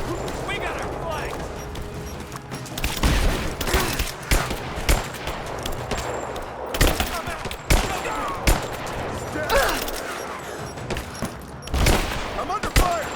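Gunfire in the video game Rise of the Tomb Raider, with repeated loud bursts of shots and fusillades in clusters over a noisy firefight, with voices heard intermittently.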